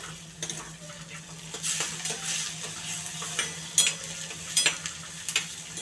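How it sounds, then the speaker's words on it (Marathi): Onion and tomato sauté in a pan as a spoon stirs and scrapes, with soft sizzling under irregular clinks of metal against the pan, fairly quiet and close. "मी कांदा चांगला परतून घेते तरी बघा आता याच्यामध्ये टोमॅटो टाकते मी आता टोमॅटो पण चांगला परतून घ्यायचा"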